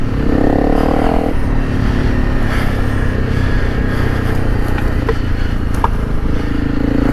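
A Honda CRF300 dirt bike motorcycle rides off-road through deep ground, its engine droning loud and steady close up throughout, with scattered clatter and scraping over the constant roar.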